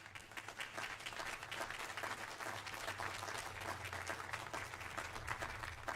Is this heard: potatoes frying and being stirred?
no